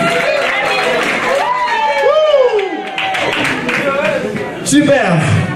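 Wedding guests clapping and cheering in a lively crowd, with voices and whoops mixed over the applause.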